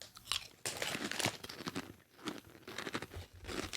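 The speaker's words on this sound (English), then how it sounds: "He's gonna taste these quinoa, whatever the hell they are, chips." Crunchy quinoa chips are chewed close up, a rapid run of loud, dry crunches and crackles with brief pauses, no voices over them.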